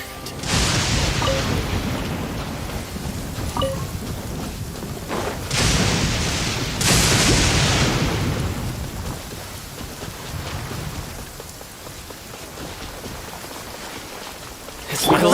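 A thunderstorm in the open-world game Genshin Impact: steady heavy rain with rolling thunder swelling and fading several times, loud and enveloping throughout.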